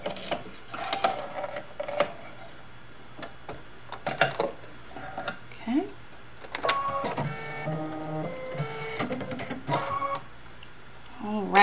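A Baby Lock sewing machine stitches in bursts of whirring and clicking, with short pauses between runs, close and moderately loud; a voice speaks briefly in places.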